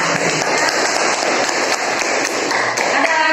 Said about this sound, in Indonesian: Oke, kasih aplaus untuk jawaban.